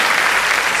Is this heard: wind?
no